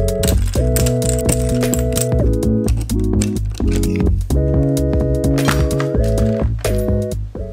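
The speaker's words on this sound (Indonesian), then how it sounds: "Langkah pertama, tentu aja kita bongkar semua bagian keyboardnya." Clicks and clacks of a Royal Kludge RK68 budget keyboard being taken apart, busy and close, with steady tapping and plastic knocks throughout over a continuous tonal music bed.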